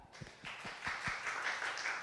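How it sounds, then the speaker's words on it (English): Audience applause after a tech talk, starting with a few distinct separate claps and then swelling into a soft, steady patter of many hands, faint and somewhat distant. "so everybody please clap"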